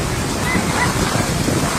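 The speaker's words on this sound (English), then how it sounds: "you can hear the waves pounding." Heavy waves pound the shore along the Roseau seafront in Dominica after Hurricane Maria, a loud, continuous roar of surf mixed with wind buffeting the microphone.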